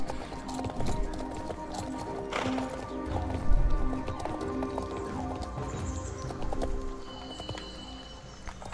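Rhythmic clip-clop of horse hooves running at pace, close and continuous, with jingling and background noise mixed in and a voice talking faintly over it.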